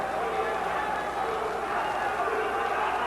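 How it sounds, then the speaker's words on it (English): A boxing arena crowd roars continuously during a late round of a Roberto Durán fight, a dense wash of shouting under a commentator's voice. "The crowd is all screaming, Duran, Duran."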